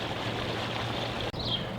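Water rushes steadily while an RV black tank is rinsed at a campground, a continuous close hissing flow with a brief dropout near the end.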